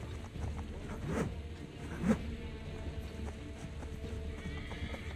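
Hooves clip-clop steadily with a couple of sharp horse whinnies over a rumbling Assassin's Creed 3 Remastered game soundscape, no talking.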